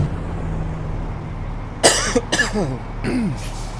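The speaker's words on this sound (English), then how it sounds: "my cough's starting to come back again." A few sharp coughs, one burst then another a second later, close by over a steady low background hum.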